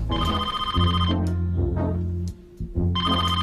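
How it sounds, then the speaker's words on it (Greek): A telephone rings loudly and close, one burst of ringing, a short pause, then another burst. "Τηλέφωνο."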